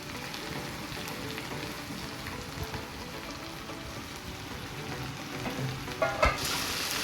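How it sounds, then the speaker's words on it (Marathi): Onion fries with curry leaves and chili paste in a pan, a steady close, dense sizzle with stirring, and a sharper scrape and clatter near the end. "आता मस्त छान फ्राय करून घ्या एकदम पूर्ण मिक्स करून घ्या"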